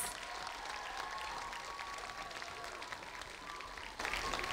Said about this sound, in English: give Granity School a massive round of applause